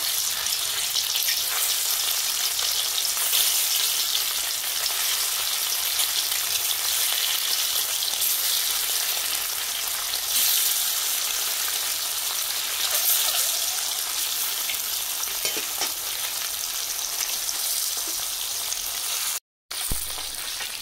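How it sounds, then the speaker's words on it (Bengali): Eggs seasoned with salt and turmeric frying in hot oil make a dense, even, close hiss that continues almost without a break and without any talk. "দেখুন ডিমের এক সাইডে ভাজা হয়ে গেছে"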